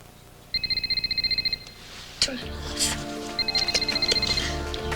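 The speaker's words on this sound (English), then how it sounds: "My cell phone. Where did I put that thing?" A cell phone rings with repeated bursts of bright electronic trilling tones, near and loud. It is heard in two separate rounds, with thumps and people talking between them.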